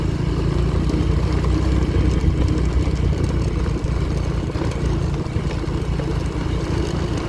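A motorcycle's steady engine drone rumbles throughout on a rough road with constant road and wind noise, holding an even pitch with no pauses.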